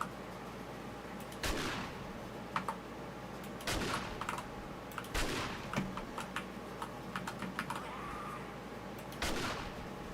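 Shotgun gunfire in the video game 7 Days to Die: several sharp, loud blasts at uneven intervals, with fainter clicks and game noise between shots and no talking.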